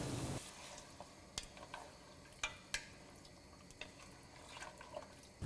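Mutton masala being stirred in a pan after meat gravy is added, with faint wet scrapes and occasional spoon knocks against the pan at a steady, unhurried pace.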